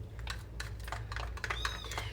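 A young kitten gives a few thin, high meows over a low steady hum and some light tapping, close and fairly quiet.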